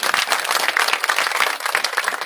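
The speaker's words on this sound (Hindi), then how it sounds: "जोरदार तालियों से स्वागत करें।" Dense, sustained applause from a crowd at an International Women's Day women's dialogue event in Bhiwani, welcoming an honoured guest; continuous clapping fills the clip at steady loudness with no speech.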